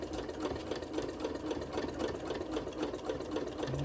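Sewing machine stitching up the side of a fabric oven mitt: a close, steady run of rapid needle clatter with a mechanical hum, uninterrupted and fairly quiet.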